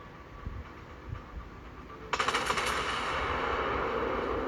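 Warship guns fire in the World of Warships naval battle game, a few soft thuds followed by a sudden loud salvo that settles into a sustained rumbling roar.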